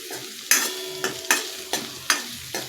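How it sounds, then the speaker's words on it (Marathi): Onion lightly sautéing in a pan for ragi soup, with five or six sharp spoon scrapes and stirs against the pan at a steady pace over a faint, constant sizzle. "कांदा आपल्याला याच्यामध्ये गोल्डन ब्राऊन नाही करायचा तर दोन ते तीन मिनिट फक्त हलकासा परतून घ्यायचा आहे"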